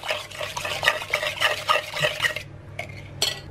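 Milk being mixed into a gluten-free chocolate chip loaf cake batter, with a steady run of close scraping, clinking stirs against the bowl that stops briefly near the end, then one last stroke.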